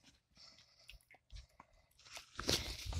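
A baby chews food in short, soft, crunchy bites close by, with quiet gaps between them and louder munching toward the end.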